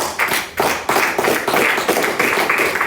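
A church congregation applauds together, a dense burst of hand claps swelling and rolling on steadily for a few seconds with no talk over it.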